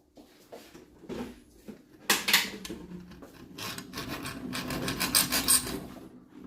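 Rhythmic rasping strokes of a hacksaw cutting a channel into a screwdriver during a hair dryer repair, starting quietly then growing louder and steadier in the second half, close by with no talk.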